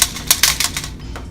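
Plastic LEGO Star Wars X-wing toy rattling as it is picked up and shaken, a quick run of close, loose clicking clatters in an irregular rhythm, fading toward the end.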